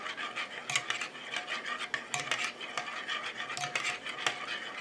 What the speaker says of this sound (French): Je mélange jusqu'à ce que mon urée soit bien dissoute.